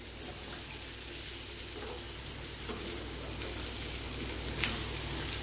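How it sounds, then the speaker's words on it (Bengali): Washed rice tipped into a hot spiced pan for chicken khichuri and stirred lightly, giving a steady, fairly loud broadband sizzle with faint scraping, alone without talk. "এবার দিয়ে দিচ্ছি চালগুলো, ধুয়ে রাখা চালগুলো দিয়ে হালকা করে একটু নেড়ে জল দিয়ে দেবে"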